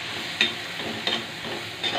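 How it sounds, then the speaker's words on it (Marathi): Poha sautéing in a pan with coriander powder, turmeric and salt: a steady close sizzle of frying, with a sharper scrape of the spoon stirring about three times at regular intervals. "थोडं धनिया पावडर टाकते, थोडं हळद टाकते, थोडं मीठ टाकते, चांगलं परतून घ्यायची"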